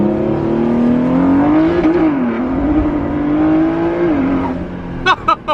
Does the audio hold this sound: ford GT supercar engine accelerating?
yes